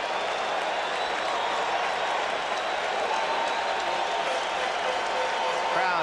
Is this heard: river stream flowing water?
no